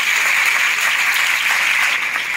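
An audience claps for the Rotary Club at a school event, a dense, steady round of applause from many hands, loud and continuous with no voices over it.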